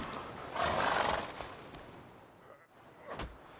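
Roach, the horse in The Witcher 3, gives a loud close neigh with hooves clattering as it pulls to a halt, followed by a few quieter thuds and shuffles, no speech.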